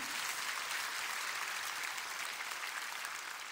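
An audience at a prayer meeting applauds, a soft, even wash of many hands clapping that sounds somewhat distant and continues steadily with no one speaking over it.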